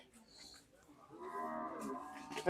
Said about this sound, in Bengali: ওই যে একটা গরু আসতেছে